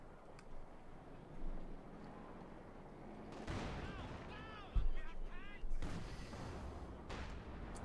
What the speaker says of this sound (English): Field guns pushing back here, and we got the studio opening up with the 75mm cannon.